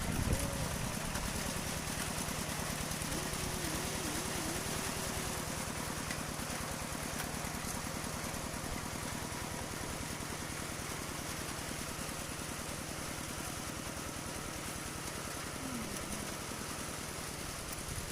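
A plough engine drones steadily while working a garden plot in the rain, a constant close mechanical hum blended with wet hiss throughout, with no voices.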